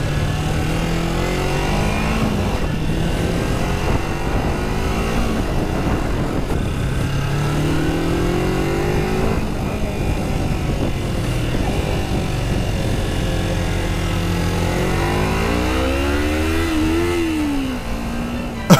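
A 2004 Kawasaki Ninja 250 with freshly repaired carburetors is ridden, giving a continuous engine drone with rising and falling revs over steady wind rush.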